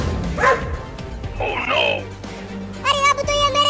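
Two cartoon dogs bark in short bursts, with a high harmonic yelp and a run of rapid barks near the end, heard alongside an animated character's voice and background music.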